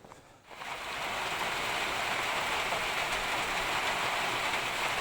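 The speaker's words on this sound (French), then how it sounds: "il avait été prévu une averse, bah, elle vient de tomber" Steady rain shower on a mountain hike in the Mercantour, starting abruptly after a brief quiet moment and then holding as a dense, even hiss close by, with no talking.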